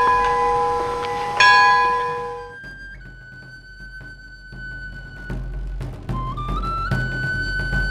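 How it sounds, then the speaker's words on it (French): A very old church bell in a campanile rings with loud, resonant strikes whose long metallic hum decays, followed by quieter distant tolls and lingering tones. "la cloche est très ancienne"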